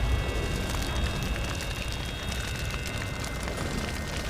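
A burning city in Minecraft gives off a steady roar of fire with soft crackling and low rumbling, continuous and moderately loud.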